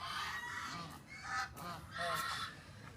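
Geese honking near a children's play area and café grounds, several loud nasal calls in two bursts with a quieter stretch between, close by, with faint background chatter.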